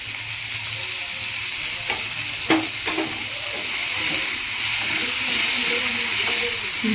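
Ingredients for hotel-style red chutney frying in oil in a pan, a steady loud sizzle and hiss with a few sharp clinks of stirring, close up throughout.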